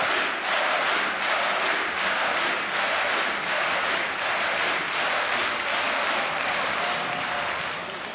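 A packed arena crowd at the Dreamhack Winter 2014 CS:GO grand final in Jönköping cheers and applauds in a loud, sustained roar of dense clapping that holds steady throughout, with no voices over it.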